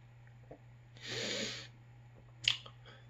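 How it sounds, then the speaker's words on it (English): A single close, breathy human sneeze bursts out after a quiet sniff, followed by a sharp snort or exhale, over a low steady hum. "I feel a sneeze coming on."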